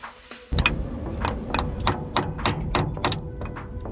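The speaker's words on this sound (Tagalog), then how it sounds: "Talagang pinagpapapalo ko na ng todo guys, pero ayaw pa rin pumasok ng Allen key." An Allen key is hammered hard into a stiff, rusted screw, a close series of about ten sharp metallic strikes in an uneven rhythm, ringing over a low background rumble.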